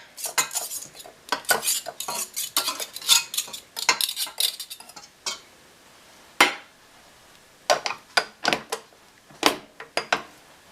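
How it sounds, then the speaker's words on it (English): A butter knife scrapes and knocks against a metal whisk while freshly churned butter is pushed out, giving rapid clinking and scraping bursts, then sparser taps after a short pause. "taking the clean butter knife, squishing it out of the whisk."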